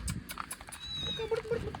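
A kitten gives a few short, thin meows in close succession over a soft, noisy background.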